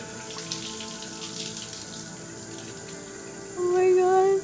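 Shower water runs in a steady hiss that grows louder and fuller near the end as the flow strengthens.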